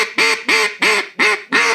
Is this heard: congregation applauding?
no